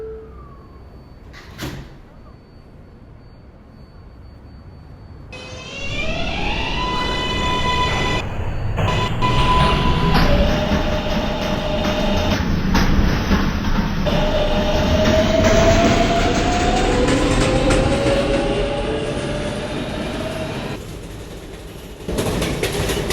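A New York subway Z train, Queens-bound on skip-stop service, rumbles and clatters loudly along the track, with rising motor whine and squealing tones building as it picks up speed, then a brief quieter lull and renewed noise.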